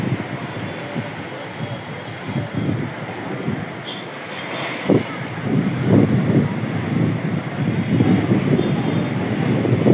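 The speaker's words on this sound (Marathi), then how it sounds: "ह्या लाट जे आहेत जे पावतो नाझीम शेख त्याच्या अंगावर पाणी आहे." Sea waves with strong wind on the shore, a steady rushing roar with gusts buffeting the microphone and louder surges of surf building toward the end.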